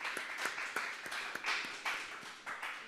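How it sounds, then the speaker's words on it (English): Scattered clapping from a small meetup audience after a host's call to welcome Joe, a sparse ragged patter of individual hand claps at moderate distance, no voices over it. "Round of applause for Joe."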